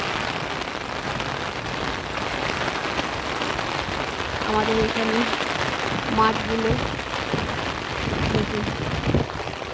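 A steady downpour hisses and patters on surfaces, with someone speaking briefly partway through under the constant rain.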